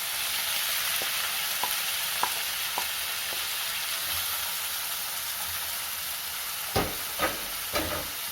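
Diced tomatoes go into a pan of chilli con carne made with soya chunks and fry with a steady sizzling hiss, broken by faint stirring taps and a few louder scrapes near the end.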